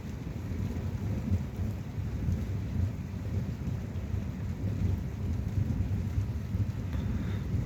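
Steady heavy rain pours down through an evening thunderstorm, with a deep, continuous rumble of thunder rolling underneath the whole time and no voices.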